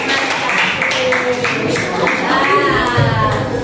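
Junior high school students clap together in a classroom, a fairly steady run of sharp hand claps mixed with children's voices and chatter throughout.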